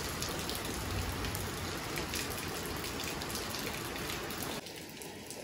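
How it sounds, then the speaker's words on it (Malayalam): Heavy rain falls hard and steady on surfaces around a house in the afternoon, a loud continuous drumming hiss that eases slightly near the end, with no voices. "അപ്പൊ ഇതാ നല്ല സൂപ്പറായിട്ട് മഴ പെയ്യുന്നുണ്ട് കേട്ടോ."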